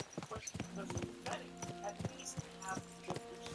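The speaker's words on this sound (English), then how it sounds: "Let's really spur these horses on, eh?" Hooves of horses in the video game Kingdom Come: Deliverance II clatter in a quick, steady clip-clop rhythm throughout, fairly close and clear.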